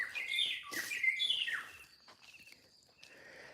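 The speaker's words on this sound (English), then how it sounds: "Hey, good morning, bird." Wild birds chirp and trill outdoors, loud and close in rapid overlapping calls for the first two seconds, then thinning to a few fainter tweets.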